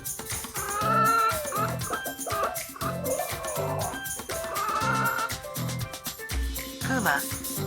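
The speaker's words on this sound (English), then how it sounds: "Chicken." A chicken clucks in a run of short, rhythmic calls, fairly close and clear, with no voices over it.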